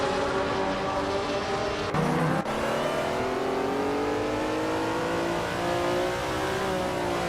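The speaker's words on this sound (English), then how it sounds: "Iconic Odd is driving a 1982 Lancia LC1.A." A 1982 Lancia LC1 race car engine in a racing video game, a loud sustained drone that climbs steadily in pitch through the gears, with a brief dip in the middle and no talk.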